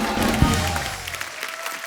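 Studio audience applause on a television comedy show, dense clapping and crowd noise under a loud voice, tapering slightly over two seconds.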